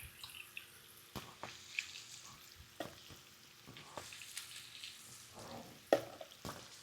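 Blackened salmon browning in a frying pan, a quiet low sizzle with scattered clicks and light taps of utensils throughout.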